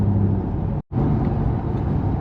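Raspy, aggressive exhaust note from a Toyota Chaser with a 1J engine, a loud, steady drone close by, cut off by a brief gap of near silence before resuming.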